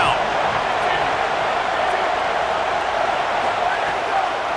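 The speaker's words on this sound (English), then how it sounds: "Decibels rising as the crowd gets behind this defense on third down" Stadium crowd roar in EA Sports College Football 27 swelling as fans back the defense on third down, a steady dense wash of noise held at an even loud level throughout.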